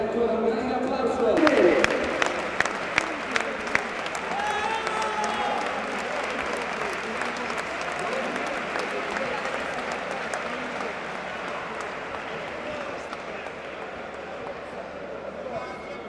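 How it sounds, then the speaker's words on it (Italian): Applause from the crowd at a boxing event, the Mediterranean City title fight, with cheering and clapping in a large hall. It carries on steadily, with sharp claps near the start, while an announcer's voice talks over it. "vorrei ancora un grande applauso!"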